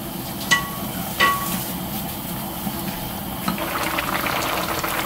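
A pot of pollack braising sauce simmering and starting to bubble, a steady soft hiss of boiling liquid with a couple of faint clinks, close by and fairly quiet.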